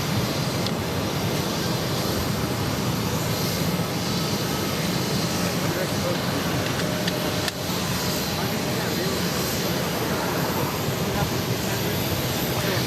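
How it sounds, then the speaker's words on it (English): A Hainan Airlines Boeing 787-9 Dreamliner jet takes off at an airport, its broad engine roar steady and fairly distant, with wind noise and faint talk over it. "730 taking off to Seattle on the 787-9 Dreamliner"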